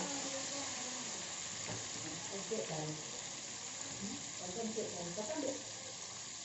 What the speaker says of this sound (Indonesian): Kita goreng tomatnya dulu.